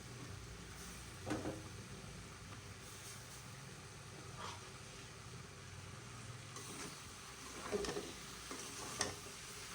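Beef tripe frying in a pan with tomato and coriander leaves stirred in, a low steady sizzle running throughout, with a few louder scrapes and clatters of stirring now and then.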